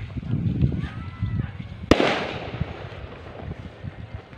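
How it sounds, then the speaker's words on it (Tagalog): Firecrackers go off outdoors: a single sharp, loud bang cracks out and then a crackling tail fades away, over steady outdoor background noise with faint voices. "Bakit may paputok?"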